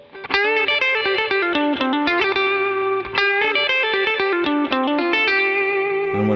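Fingerpicked electric guitar plays a song lick at a slow tempo, a steady run of clear, ringing single notes with light effects, close and alone with no talking.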